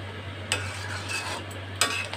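Spices stirred into sweet raw mango pickle with jaggery in a pan, soft scraping spoon movement over a faint sizzle, with two sharper clinks of the spoon against the pan.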